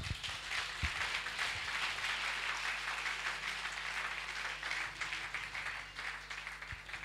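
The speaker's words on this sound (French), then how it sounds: "Acclamons le Seigneur." A church congregation claps and applauds the Lord during a worship service, a sustained wash of clapping from many hands that fades slightly toward the end.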